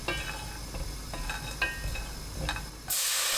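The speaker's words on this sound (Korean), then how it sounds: "냄비에 손질한 국물용 멸치 20마리 넣고 센 불로 1분 볶습니다." About twenty cleaned dried soup anchovies are stir-fried in a pot over high heat, making a steady close sizzle with faint scraping stirs. A louder hiss rushes in at the end.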